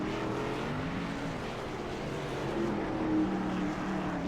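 Race cars on a track roar past in a steady, dense wash of engine noise that swells slightly near the end, with no voices over it.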